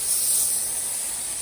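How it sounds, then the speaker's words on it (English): Syrup-dipped French toast sizzles steadily on a hot griddle, a loud, even hiss that holds without a break. "Hear the yummy sizzle."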